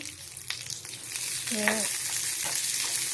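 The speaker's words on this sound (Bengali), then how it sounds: "छोलार डाल दिएছি, তাতে বিউলির ডাল দিয়েছি, পেঁয়াজ দিয়েছি, কাঁচা লঙ্কা দিয়েছি, দিয়ে এটা একটু ভাজবো।" Chana dal, urad dal, onion and green chili frying in a pan for coconut chutney, a soft sizzle with a few light stirring scrapes, quiet and close, no voices.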